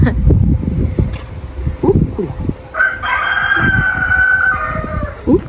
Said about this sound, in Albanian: Kuali, si bën pula?